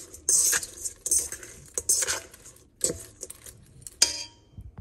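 Cauliflower being mixed with sauce in a dish, repeated scraping clinks of a utensil against the dish in uneven strokes, close and moderately loud, with no talk.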